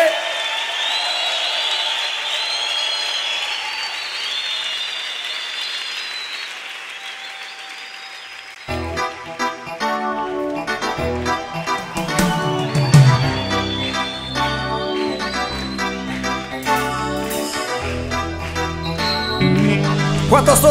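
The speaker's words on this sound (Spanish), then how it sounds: "porque no le das fuerte ese aplauso al Señor Jesucristo" A church congregation applauds loudly and steadily at a Spanish-language Christian worship event, the clapping sustained throughout and joined midway by full band music with cheers rising over it.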